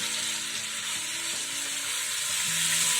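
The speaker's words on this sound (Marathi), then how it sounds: "आता आपण ही भेंडी टाकूया ह्याच्यावरती" Stuffed okra, bharli bhendi, frying in a pan with a spice masala, giving a steady close sizzle with a faint rise in intensity toward the end and no voices.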